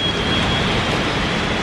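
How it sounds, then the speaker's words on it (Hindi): Heavy rain pours steadily outside as a dense, continuous loud hiss with a low rumble underneath, unbroken throughout. "और बाहर बहुत तेज़ बारिश आ गई है"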